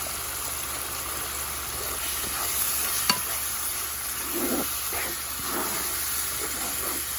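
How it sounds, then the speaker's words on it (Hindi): Beetroot roasting in a pan with salt, black cumin and crushed red chilli, a steady soft sizzle with occasional scrape of stirring and one sharp clink, close and alone with no voices. "थोड़ी देर इनको भुनेंगे"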